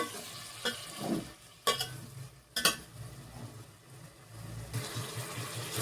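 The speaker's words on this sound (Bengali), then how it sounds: "ভালো করে কষিয়ে নিচ্ছি।" Biryani masala being stir-fried in a pan while cooking egg biryani, with steady scraping and stirring over a soft sizzle, a few sharper clatters of the spoon against the pan, and faint running-water sounds in the background.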